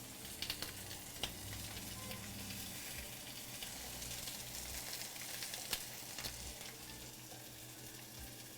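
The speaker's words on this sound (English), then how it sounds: "That's a good sizzle sound." Pork chops searing in a hot pan, rendering fat with a continuous close sizzle broken by scattered sharp pops and crackles, steady and moderately quiet with no voices.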